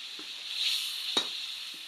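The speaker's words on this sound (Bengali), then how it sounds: "ভেজে নেওয়ার পর দিয়ে দিব 2-3টা পেঁয়াজ কুচি" Two or three chopped onions frying in a pan, added after the meat is fried: a faint, steady sizzle with a few soft stirring knocks.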